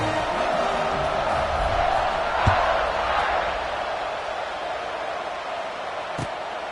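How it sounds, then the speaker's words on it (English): Football stadium crowd after a score, a loud continuous roar and buzz that fills the whole clip, steady throughout with a couple of brief thuds. "this crowd is buzzing after that last score"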